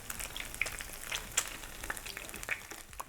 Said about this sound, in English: I'm gonna let them brown on all sides, look all around, and I'm gonna flip them over.